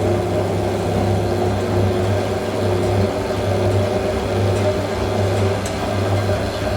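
A washing machine on its final 1000 RPM spin cycle, producing a loud, steady low hum and whirr that holds constant throughout, with no speech over it.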